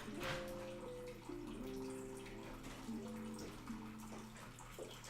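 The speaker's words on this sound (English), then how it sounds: "How does our little water fountain sound in the back?" A small water fountain trickles and splashes steadily in the background, faint and continuous, with a low hum and some tonal sounds drifting over it.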